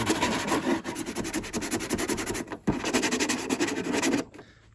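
A speaker box surface is roughed up by hand before filling, a close, rapid rasping scratch with short pauses that stops near the end.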